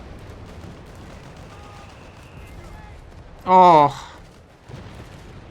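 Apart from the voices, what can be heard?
mortar shells exploding in Company of Heroes 3 video game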